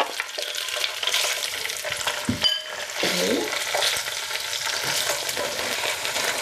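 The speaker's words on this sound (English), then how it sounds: "And fry it at least until two sides are pale golden." Tofu frying in olive oil in a frying pan over medium-high heat for a tofu kale stir fry, a steady close sizzle with brief stirring scrapes and clatter.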